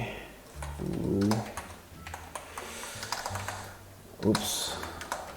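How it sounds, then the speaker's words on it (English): Close, sharp computer keyboard keystrokes and mouse clicks come in irregular bursts during Valheim gameplay, with someone speaking intermittently over them. "you can hear a lot of mouse clicking and keyboard noises in the background"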